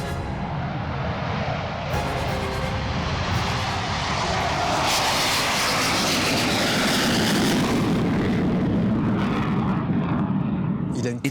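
A Rafale fighter jet taking off and climbing, its engine building from a roar into a loud, broad, sustained thrust that holds steady, with a voice speaking over it.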